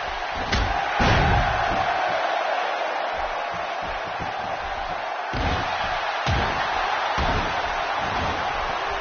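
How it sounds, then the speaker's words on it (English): Crowd noise fills a WWE 2K16 video game arena during a Smackdown wrestling match, a continuous roar broken by heavy slams and thuds from the ring, with commentators talking over it. "Another electric crowd on hand here for Smackdown"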